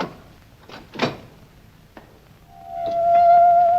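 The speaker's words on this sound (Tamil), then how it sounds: "கதவு திறக்கலாம்" Door opening in a Tamil story scene: a few soft knocks and creaks, then a rising tonal creak that swells loudly and holds near the end, with no talk.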